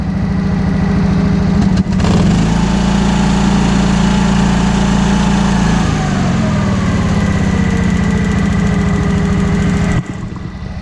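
A Honda RT5000 riding mower tractor engine runs loud and close, a steady low drone whose pitch shifts as the throttle is moved, then dips near the end.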